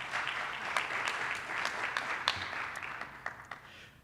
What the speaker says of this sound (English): special round of applause for them